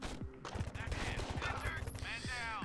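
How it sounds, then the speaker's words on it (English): Gunfire from a SWAT officer in the Door Kickers video game: a rapid burst of close, sharp shots crackling across the whole clip, with a few brief voice-like game sounds mixed in. "my SWAT team guy decides to shoot the hostage"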